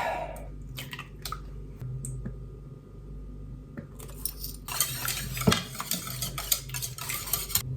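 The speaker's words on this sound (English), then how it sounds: "whisk together in a bowl with the eggs, maple syrup and vanilla" Eggs and maple syrup are whisked in a bowl with quick, rapid clicking of metal against the bowl that grows busier and louder in the second half, heard close over a faint background hum.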